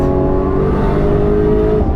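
An 850hp Nissan Skyline R34 GT-R V-Spec on the Nürburgring drones loudly at steady high revs, a constant dense engine roar with a whirring harmonic tone, heard from close by throughout.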